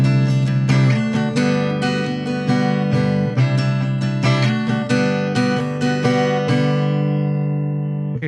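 Electric guitar strumming the rhythm part of a song with accented strokes, steady and full, chords ringing continuously with sharp accents punctuating the pattern and no voices.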